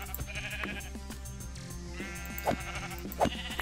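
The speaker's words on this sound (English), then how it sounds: "Okay, I hear sheep." Sheep bleat in the video game Minecraft, two short wavering calls over a background of game music.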